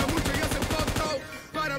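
Rapid gunfire in the PUBG Mobile shooter, a fast rhythmic string of sharp shots for about a second that stops, followed by a single louder crack and some ambience.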